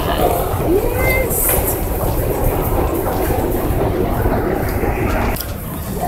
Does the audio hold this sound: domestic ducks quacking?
no